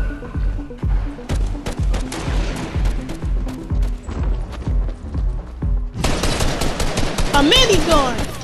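Minigun fire in Fortnite: loud, rapid sustained bursts of gunshots with heavy thuds, rising into a dense continuous roar near the end.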